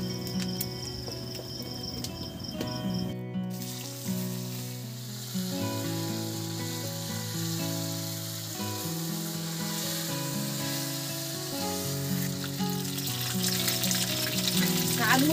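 Cumin seeds and potato pieces fry in hot oil for a crab curry, a steady close sizzle running throughout beneath background music.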